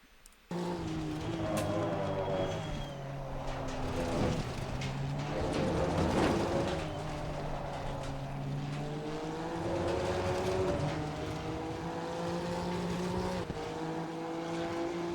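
A Honda NSX EVO GT3 race car laps Imola in Assetto Corsa Competizione, its engine droning loudly and steadily with rising and falling revs through gear changes, heard alone from the cockpit for the whole stretch.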